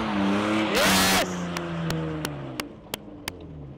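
BMW E36 drifting, engine revving loudly and tires squealing briefly, followed by a series of sharp pops while the engine note falls away.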